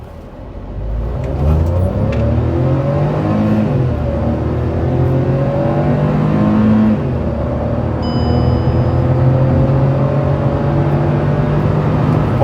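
Hyundai i20 Sportz with a DCT gearbox accelerating hard to 100, the engine note climbing steadily and loudly through the gears with brief dips at each shift, heard from inside the car.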